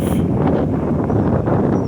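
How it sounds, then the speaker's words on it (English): Strong wind buffeting the microphone, a loud continuous low rumble with gusty swells throughout. "I'm so sorry if this is crazy windy"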